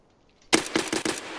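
Automatic gunfire in Escape from Tarkov: a sharp burst of four or five rapid, loud shots in quick rhythm after a brief quiet moment.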